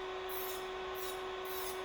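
An electric nail drill machine runs at 20,000 RPM with a steady high-pitched whine and airy hiss that swells in short repeated pulses, close and continuous without talk.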